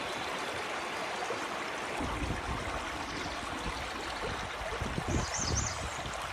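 River water flows and splashes continuously around a canoe drifting downstream near Mount Carleton, a steady close wash with occasional paddle-like sloshes and gurgles, alone without talk.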